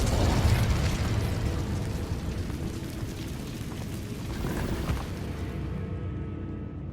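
Fiery whoosh and crackling roar of the Incendio spell cast in Hogwarts Legacy, a sustained loud burst of flame that fades gradually over several seconds.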